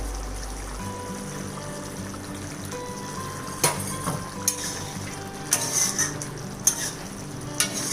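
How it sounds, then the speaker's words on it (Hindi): Whole eggs are added to a simmering curry gravy in a pan and stirred in, with a soft bubbling sizzle and a few sharp spoon scrapes and clinks against the pan. "अब इनमें अंडों को डालना है।"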